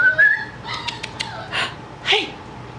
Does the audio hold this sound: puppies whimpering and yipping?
yes